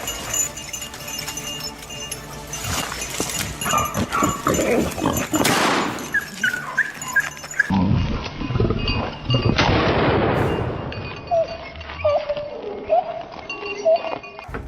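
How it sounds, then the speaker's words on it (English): Hunting dogs bark from a dense thicket during a wild boar hunt, repeated loud yelps and barks in irregular bursts amid rustling and other animal noise. "The barking of hunting dogs echoed from the dense thicket"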